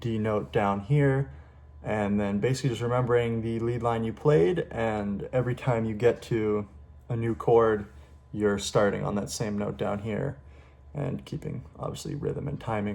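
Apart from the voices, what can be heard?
No everyday noise stands out behind the speech.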